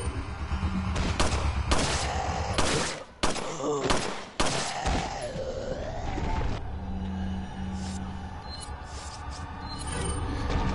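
Gunshots in the PS4 video game Resident Evil 4 during Ashley's rescue, several loud sharp blasts in the first half with echoing tails, followed by quieter rumbling ambience.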